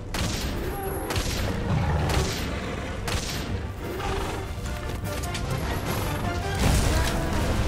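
Gunfire aimed at a monster in a PS4 action game: repeated shot bursts ring out over a dense, continuous rumble of noise, with no pauses.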